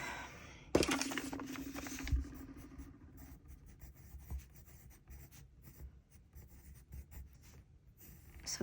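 A pencil sketches on a bullet journal page, giving soft scratchy strokes from close by: a brief burst of denser scribbling near the start, then quieter intermittent scratches and light taps with no one talking.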